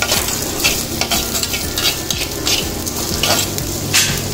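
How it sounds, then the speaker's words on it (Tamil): Onions sautéing in a pan for banana flower fry, a close, steady sizzle with repeated spoon scrapes and stirring strokes at an uneven rhythm. "இந்த வெங்காயத்தையும் போட்டு நல்லா கிண்டி விட்டுறணும்."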